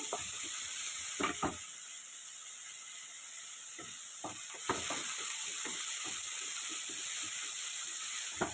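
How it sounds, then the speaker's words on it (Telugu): Onions and green beans stir-fry in a pan for a vegetable chow mein, with a steady sizzle under repeated sharp scrapes of a utensil, the stirring growing busier in the second half. "ఈ ఉల్లిపాయతో పాటు బీన్స్ కొంచెం లేట్ అయ్యింది వేగడానికి, అందుకని బీన్స్ కూడా వేసేద్దాం."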